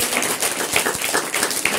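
Children and teachers at a Kannada-medium primary school clap together, a dense, moderately loud burst of hand claps with scattered sharper taps.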